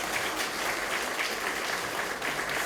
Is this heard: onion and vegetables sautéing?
no